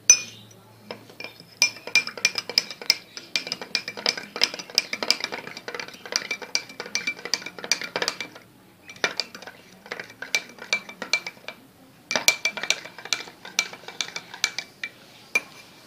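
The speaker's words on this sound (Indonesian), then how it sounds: "masukkan 1 sendok susu bubuk ke dalam segelas air dan aduk sampai rata" A spoon clinks repeatedly against a glass while stirring powdered milk into water, quick irregular taps in bursts with two short pauses, close and clear with no talk.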